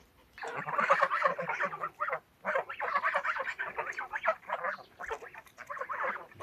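Farm geese suffering in summer heat honk in a near, continuous clamor of overlapping calls, with only brief pauses between bursts.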